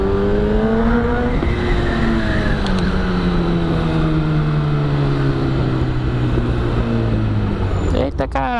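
Motorcycle filtering between cars in a traffic corridor, its engine note rising and falling steadily throughout and sliding lower as it runs, with a brief sharp burst near the end and no talk.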